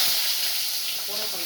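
Onions fry in a pan for a bottle gourd masala curry, a brief, steady, close hiss of hot oil with a little stirring underneath.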